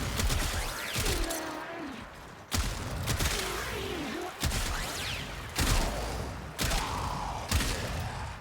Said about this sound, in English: Now I'm gonna shoot the heavy gunner.